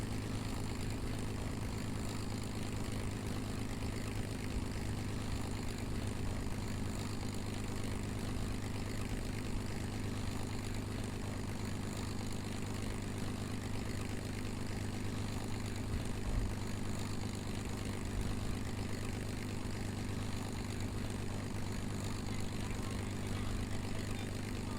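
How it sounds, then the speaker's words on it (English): Propeller engine drone of a tail-dragger aircraft coming in to land in Kerbal Space Program, a steady, even hum holding at one level throughout with no talk over it. "landing tail draggers is kind of a pain in the butt"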